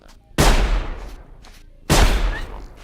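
Two loud gunshots ring out about one and a half seconds apart in the video game Sir, You Are Being Hunted, each a sharp blast trailing into a brief echoing decay.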